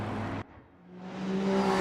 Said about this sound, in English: Labradores has passed Lorenzo Ricci and almost has a chance to overtake Olgor.